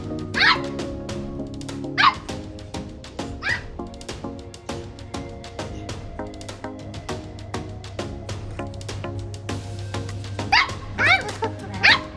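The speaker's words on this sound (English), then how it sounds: "This is Rio, our Samoyed dog." A Samoyed dog barks and yips in quick repeated bursts, mixed with higher whimpers, fairly close and continuing throughout.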